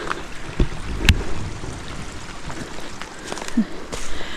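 A creek cascade rushes along a trail crossing, a steady wash of flowing water with a few scattered clicks and footstep-like knocks over it.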